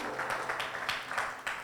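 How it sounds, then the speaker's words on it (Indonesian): A church congregation claps during a service, a soft, steady patter of many hands heard from some distance and fairly quiet throughout. "Tepuk tangan buat Tuhan Yesus."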